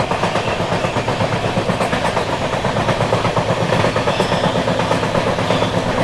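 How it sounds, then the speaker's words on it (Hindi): The 12303 Poorva Express runs at about 130 km/h with a loud, steady rumble of wheels and rails and a continuous clickety-clack throughout. "पूर्वा जो है फ्लैट 130 पर भाग रही है।"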